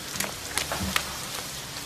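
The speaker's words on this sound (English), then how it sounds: "Hey, it's raining." Rain falls steadily on a city street as a diffuse, even patter, with a few louder drops standing out.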